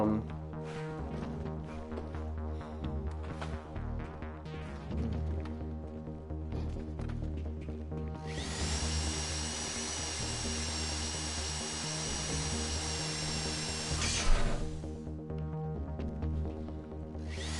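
A heist drill whirs in GTA Online, a steady high-pitched mechanical whine that starts partway through and runs for several seconds over game music and background sound before cutting off.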